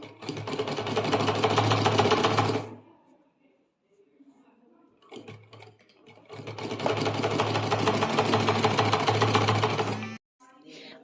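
A sewing machine stitches a child bodice block in two long, steady runs of fast mechanical whirring, close and loud, separated by a quieter pause with faint handling noise.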